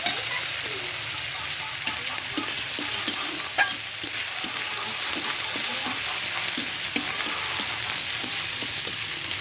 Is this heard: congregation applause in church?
no